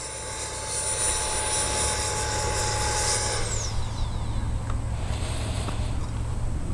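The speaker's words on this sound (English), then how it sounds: "I think it's just so cool, the sound of an AEROSCOUT with a jet engine on it." A steady high-pitched turbine whine with a constant droning roar from a jet-powered FGFRC Aeroscout RC airplane flying, the pitch sliding down partway through, continuous and fairly close.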